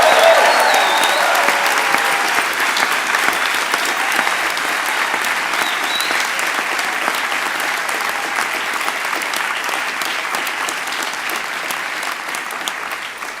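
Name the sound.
graduation audience cheering and applauding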